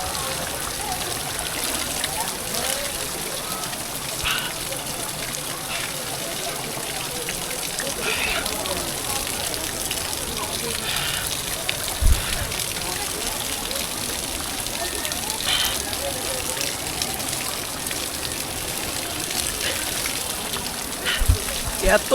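Mountain water pours and splashes steadily at Sahastradhara in Uttarakhand, a continuous broad rush of falling water close by, with occasional voices talking over it.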